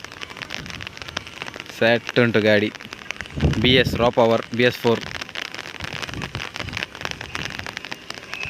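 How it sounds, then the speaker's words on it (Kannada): Rain begins falling outdoors during a motorbike video shoot in Karnataka, a light patter on surfaces that runs steadily under bursts of nearby speech. "ಮಳೆ ಶುರುವಾಯಿತು ವಾಪಸ್ಸು."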